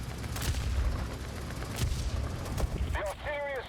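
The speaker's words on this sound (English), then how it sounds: "I'm going to use the artillery strikes." Artillery strikes land in the War Thunder tank game with rumbling booms and a sharp blast, loud and dense through the clip, while a voice talks near the end.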